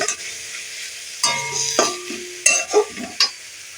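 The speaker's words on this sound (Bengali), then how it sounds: "লঙ্কা গুঁড়ো দিয়ে দিচ্ছি আমি আর হলুদ গুঁড়ো তো এটাকে আমি ভালো করে ঠিকঠাক করে আমি ভেজে নেব" Chili powder and turmeric fry in a little oil in a pan. Steady, close sizzling runs under sharp scraping and stirring strokes from a spatula, with no talking.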